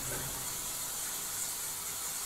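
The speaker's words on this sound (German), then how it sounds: "Mann, ist schon wieder eine Dusche kaputt?" Water sprays steadily from a broken shower in The Sims 4, a continuous even hiss that holds at one level throughout with no pauses.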